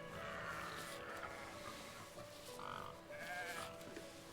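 Sheep bleat faintly in a survival-building video game, with a couple of short bleats over a steady low background of game ambience and no talking.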